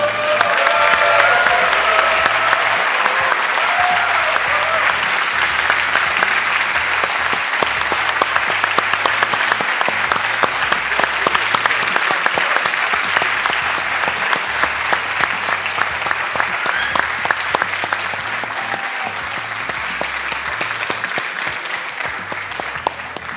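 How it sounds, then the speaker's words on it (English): Sustained audience applause fills a graduation ceremony hall at the EIT Digital Academy 2018, a dense, steady wash of many hands clapping that holds loud for over twenty seconds and tapers only slightly toward the end. "Please give a warm round of applause for all of you"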